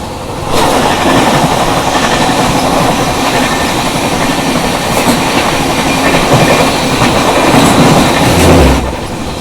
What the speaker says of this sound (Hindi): चलिए अभी अपनी क्रॉसिंग यहाँ पे हो रही है अमृतसर नई दिल्ली शताब्दी एक्सप्रेस के साथ।